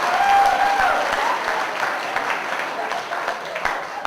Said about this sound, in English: let's have a big round of applause for all my warm-up acts